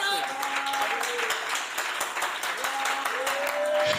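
Church congregation applauding the Lord during a French-language sermon, many hands clapping in a rhythmic, steady pattern with a voice calling out tones above it throughout.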